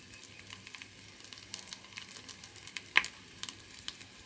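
Potatoes and onions fry in a pan with a soft continuous sizzle, broken by small crackles and pops, including one sharp pop.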